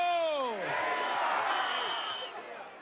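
A large outdoor rally crowd in Plaza Caracas roars and cheers for Evo Morales, with loud overlapping shouts and sliding whoops forming a continuous, close wall of noise.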